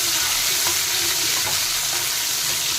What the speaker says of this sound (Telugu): అంటే మిరపకాయలు కూడా ఇందులోనే వేయించేస్తాం, ఇంకా వేరే తిరగమత అక్కర్లేకుండా ఇందులోనే మిరపకాయలు వేయించేసి దొండకాయ ముక్కలు వేసేస్తాం.